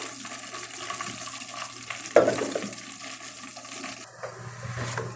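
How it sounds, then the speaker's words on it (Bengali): Onion and garlic frying in oil in a home kitchen, a steady hiss and sizzle throughout with a sharp clatter of stirring partway through, close and moderately loud, with no voices. "আর যে তেল দিয়ে ভাজি করছি ওই তেলের মধ্যে এখন মশলাটা কষাবো।"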